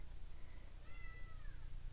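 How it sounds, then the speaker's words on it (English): A kitten gives one drawn-out, rising-then-falling meow at moderate distance, heard alone over a steady low background hum. "you might be able to hear in the background a meowing kitten"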